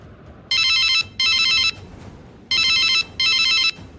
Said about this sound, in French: Il faut que j'appelle Yannick